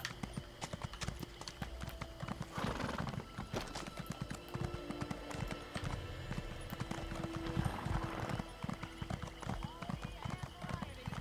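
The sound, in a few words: horse hooves galloping in a video game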